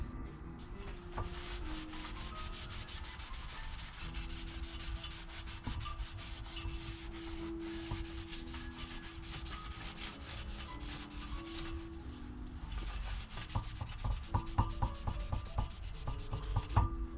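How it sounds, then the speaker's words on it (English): Rag rubbing residue off a Rolls-Royce Springfield Phantom 1 clutch part with lacquer thinner, a steady close scrubbing and wiping texture with faint background hum, growing slightly busier toward the end. "Use a little lacquer thinner to get the rest of it off."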